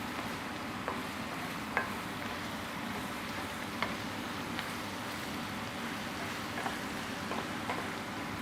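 Vegetables for a risotto cook in a pan with a steady soft sizzle and a few faint clinks and stirring taps, no one speaking.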